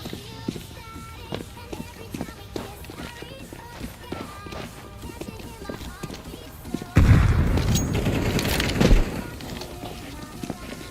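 A grenade explodes in a tactical shooter video game, landing as a sudden loud boom mid-clip with a couple of seconds of rumbling gunfire and debris, after scattered quieter clicks and footsteps.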